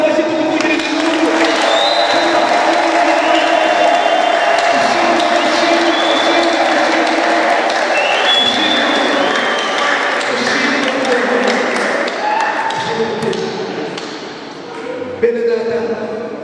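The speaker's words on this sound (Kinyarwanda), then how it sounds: "tugukomera amashyi, tuguvugiriza impundu" A church congregation claps and ululates together, a dense, loud wash of applause and high trilling cries that carries on steadily with no break.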